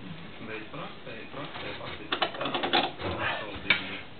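A wrench clicks in short bursts while a bolt is tightened during a repair, close and fairly quiet, with a few sharper clicks toward the end.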